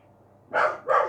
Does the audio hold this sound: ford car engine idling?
no